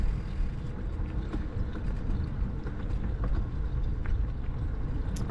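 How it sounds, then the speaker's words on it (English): Heavy traffic rumbles steadily past, with a dense low drone from big trucks on a road near Hawk Ridge Observatory, loud and continuous with no talk over it. "we got all sorts of peds and big old trucks making their way through here"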